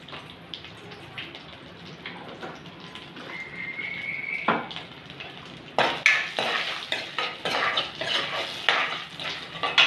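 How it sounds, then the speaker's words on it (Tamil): Dried manathakkali berries fry in hot oil in a pan, a crackling sizzle that turns louder and busier midway, with sharp stirring clinks and scrapes against the pan and no talking. "இந்த எண்ணெயிலேயே இந்த மணத்தக்காளி வத்தலை வறுத்துக்கணும்."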